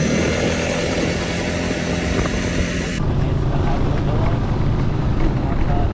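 Three motorcycles and a car idle on a road near the Indonesia–Malaysia border crossing between Tawau and Nunukan, a steady close engine drone with voices over it.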